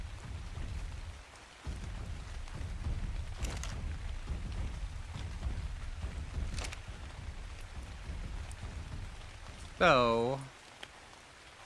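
Steady rainfall in the video game ARK on the Valguero map, a constant hiss of rain under occasional soft taps, with a brief voice near the end.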